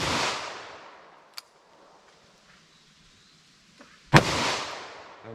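A .38 Special +P handload with Magnum primers fires once, a sharp, loud crack with a decaying outdoor tail, preceded by a fainter distant report and a small click.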